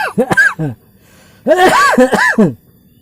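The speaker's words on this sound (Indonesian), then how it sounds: "Maaf batuk sob, kebesekan hasep." Someone close by coughs in two harsh bursts, a short one followed by a longer fit, after choking on smoke.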